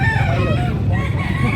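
A green Talisayon gamecock rooster crows loudly and close by, a long sustained call over steady background noise, with no talking during the call.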